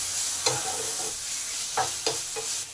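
Spice masala for an aloo chicken jhol frying in released oil, a low steady sizzle broken by a few sharp stirring scrapes of a spoon in the pan, close and alone.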